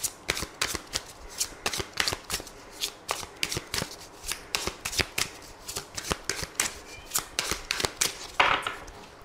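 Tarot cards are shuffled by hand up close, with a long series of crisp riffling bursts and snaps that repeat at a quick, steady pace with no voice.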